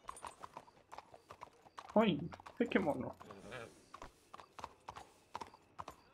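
Horse in the RedM roleplay game, its hooves clip-clopping steadily with a loud whinny midway, under people talking throughout.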